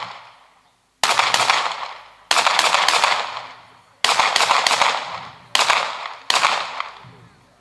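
Historic automatic weapons fired at a memorial event in Vřesovice, loud sharp bursts of rapid shots in five separate volleys with brief pauses between, echoing outdoors.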